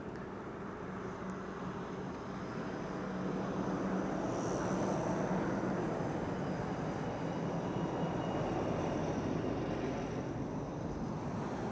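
A Delta Airlines jet bound for Detroit taxis at Amsterdam Schiphol Airport, its engines a soft distant whine and rumble that swells slightly midway and stays steady, with no talking.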